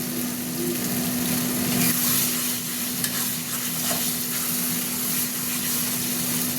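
Mutton fat sizzles steadily in its own released oil, a loud, even, close frying hiss with faint stirring scrapes and no talking.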